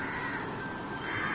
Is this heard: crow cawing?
yes